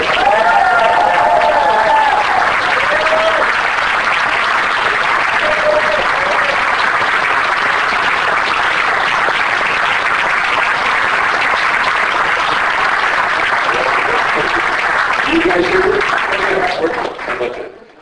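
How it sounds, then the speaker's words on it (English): Sustained, loud applause fills a convention hall as two actors from 2001: A Space Odyssey are welcomed to a panel, a dense wash of clapping and some cheering lasting well over fifteen seconds, with voices briefly audible near the start and end. "Thank you for the applause."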